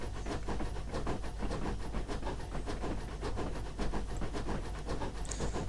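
GWR pannier tank steam locomotive in Train Simulator 2019, Victory Works pack, chuffing steadily at low speed with a continuous run of rhythmic exhaust beats and hiss, close and fairly loud throughout.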